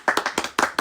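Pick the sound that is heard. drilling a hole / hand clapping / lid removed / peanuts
hand clapping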